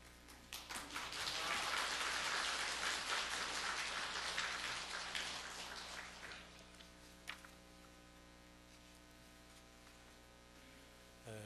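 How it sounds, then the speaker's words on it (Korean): A church congregation claps to welcome a guest pastor, a faint wash of dense applause that swells over the first six seconds and then fades into a quiet room with a steady electrical hum. "나오실 때 박수로 환영해서 맞이하겠습니다"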